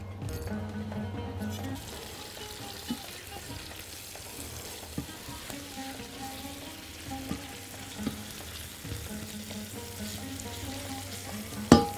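Meat and onions frying together in a pot for an okra and meat tagine, a low steady sizzle with occasional knocks and scrapes under faint background tones, ending in a sharp clatter.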